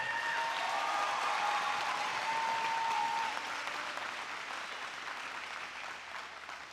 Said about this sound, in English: please give yourselves a round of applause for being here today